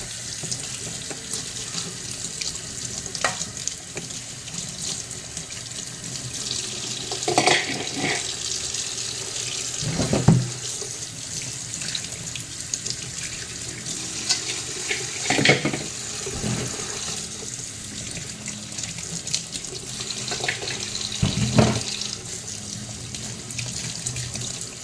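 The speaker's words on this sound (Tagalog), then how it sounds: "hugasan lang po natin isa-isa" Fresh crabs washed one at a time under a running kitchen tap, a continuous steady rush of water with occasional splashes and handling knocks, close and without talk.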